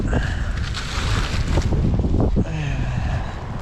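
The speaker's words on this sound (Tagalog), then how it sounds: "Ay, malakas na naman po yung hangin." Strong gusty wind roars and buffets the microphone at the seaside, a constant loud rush with faint voices underneath.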